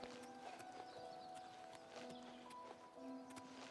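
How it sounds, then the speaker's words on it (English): Horse hooves clip-clopping in the game Oblivion, a quiet steady rhythmic patter of hoofbeats under faint ambient tones and soft game music, with no speech. "Man on a horse."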